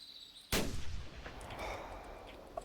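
A single loud rifle shot cracks from a tree stand in the hunting game theHunter Classic, followed by a long rolling echo that fades away across open terrain.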